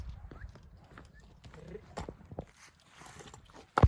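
A mare's hooves clip-clop in a scattered, uneven rhythm, moderately close and fairly quiet, with a sharp louder knock near the end.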